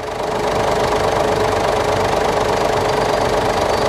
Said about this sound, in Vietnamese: Cục máy nổ khá là êm.